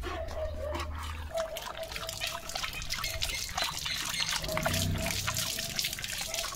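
A dog laps water from a bowl outdoors, a steady run of quick wet lapping and trickling sounds, close and moderately loud, continuing throughout with faint background noise.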